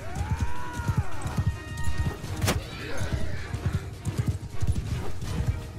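A horse galloping in the game Mount and Blade 2: Bannerlord, with steady rhythmic hoofbeats and a neigh, while a person talks over the galloping.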